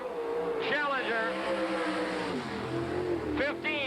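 A 1987 World of Outlaws sprint car roars around a dirt track, its engine droning loud and steady with sharp revving surges on corner entry and exit.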